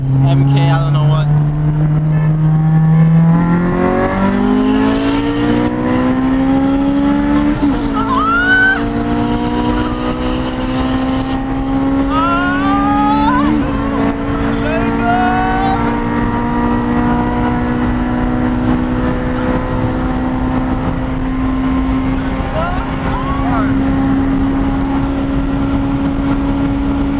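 A 2009 VW GTI accelerating hard in a 40 mph roll race, engine note climbing steadily through gear changes over sustained road and wind noise, with people talking inside the car.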